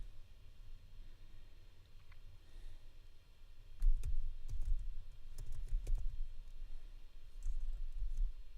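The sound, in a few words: typing on a laptop keyboard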